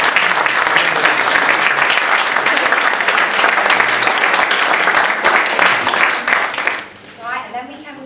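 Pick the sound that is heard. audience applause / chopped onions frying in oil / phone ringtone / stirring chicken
audience applause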